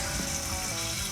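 A toilet refilling after a float adjustment during a replacement install, a loud, steady rushing hiss of water running into the tank without pause.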